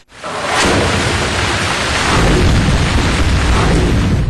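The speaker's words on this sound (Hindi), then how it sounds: "लगातार बारिश हो रही है" Heavy monsoon rain pours onto a flooded, knee-deep Mumbai street with traffic, a loud dense roar that swells in quickly and holds steady throughout.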